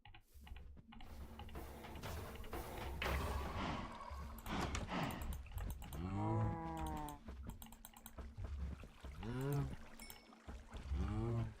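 Minecraft cows moo a few times, low drawn-out calls heard from up close, mixed with game clatter and a person talking.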